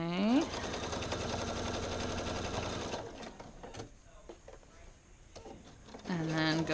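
A sewing machine stitches a seam on Simplicity 2481 pants, running steadily and loudly up close for about three seconds, then slowing into intermittent short bursts before speeding up again at the end.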